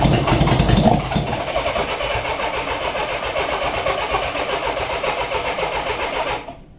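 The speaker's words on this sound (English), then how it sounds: "as long as the starter's running, it wants to run." A 1976 Honda GL1000 motorcycle engine catches and runs roughly while the starter stays engaged, a loud, close, steady mechanical churn that cuts off abruptly at the end.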